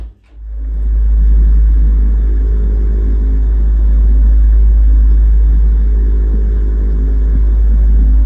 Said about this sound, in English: This is clearly some device that's at work in the crawl space below us.